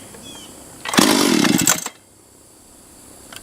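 A freshly serviced Stihl 031 AV chainsaw fires up and runs loud and close for about a second at high revs, then cuts out, leaving a low background hum.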